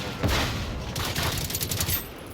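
Bursts of automatic fire from a legendary assault rifle in the video game Generation Zero, rapid cracking shots in quick runs, loud and close.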